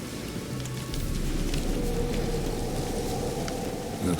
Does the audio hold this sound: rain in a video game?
yes